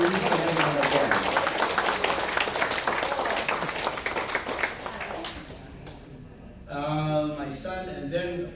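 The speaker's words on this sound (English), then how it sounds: "I want you guys to give our guests a big round of applause" Audience applause for guests at a retirement gathering, a dense wash of clapping for about five seconds that fades out, followed by a brief pause and then a person speaking.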